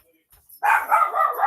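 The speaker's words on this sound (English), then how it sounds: "We're gonna give the dog time to quit barking." A household dog barks in a quick run of loud, close, overlapping barks that start abruptly after a brief quiet lead-in, while someone is at the front door.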